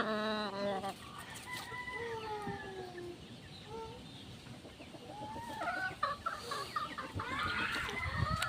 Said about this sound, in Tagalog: Tapos ito po yung aking broodcock.